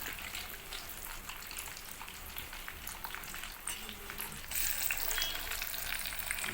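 Chicken pieces for biryani fry in very hot oil, a continuous dense crackling sizzle that swells louder in the last couple of seconds.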